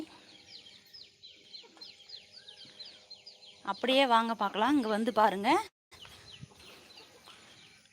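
Native country chickens, including a naked-neck hen and a red rooster, cluck and call in the background of a farmyard while someone talks close by.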